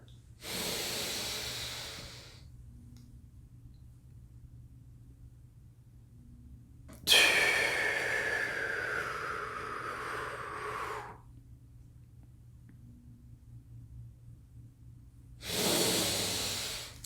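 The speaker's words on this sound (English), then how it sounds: "But that is box breathing." Paced box breathing for calm: a slow nasal inhale, a long held pause, then a drawn-out hissing exhale and another inhale, close and quiet with near silence between breaths.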